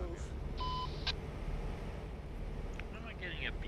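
A short electronic CB radio beep sounds once in the truck game American Truck Simulator, a steady tone over the low rumble of the truck engine, with players talking around it.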